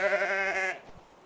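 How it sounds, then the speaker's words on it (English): A snow sheep in a Siberian hunting video game gives a single drawn-out bleat, loud and tonal, lasting under a second before fading into quiet ambience, with no talk over it. "maybe it was just the snow sheep we took down calling back to us"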